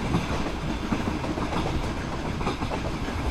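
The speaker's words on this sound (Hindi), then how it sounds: "यहाँ पर एक और लोकल ट्रेन CR की हमें क्रॉस कर रही" A Central Railway local train on the Titwala–CSMT line passes in a PC train simulator game, a steady loud rumble with rapid clickety-clack of wheels over rail joints, alone without talk.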